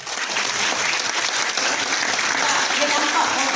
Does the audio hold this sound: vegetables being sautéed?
no